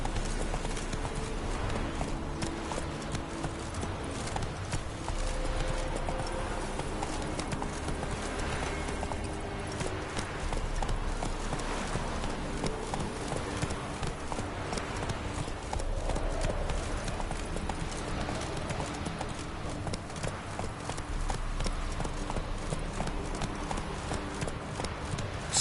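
A horse gallops in The Witcher 3, its hooves making a steady, rhythmic clip-clop throughout over a dense layer of game ambience and music.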